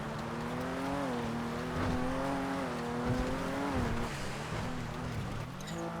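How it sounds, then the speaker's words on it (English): A fast car in a racing video game, its engine a faint, continuous whine that climbs and dips in pitch as it shifts and accelerates, with tire noise mixed in. "This car is fucking zoomy"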